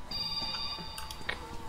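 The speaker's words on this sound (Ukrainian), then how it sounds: "Ну, хтось дзвонить, що?" An electronic phone ringtone in the video game Metro: Last Light plays steadily with a thin, high tone under some clattering and faint background noise, moderately loud.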